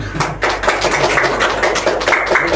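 A classroom of students claps together during a micro-teaching lesson, a steady run of fairly loud, close hand claps with no talking over it.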